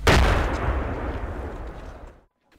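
A mortar shell explodes during shelling in Donbas, Ukraine: one loud, close blast rumbles and decays over about two seconds, falls briefly silent, then a fresh burst starts at the very end.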